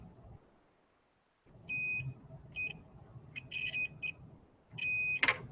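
A multimeter continuity tester beeps in a series of short, sharp tones of varying length as wires are checked on a cube build, fairly close, with quiet handling noise between the beeps.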